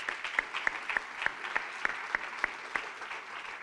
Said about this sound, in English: let's please join me in giving them a big round of applause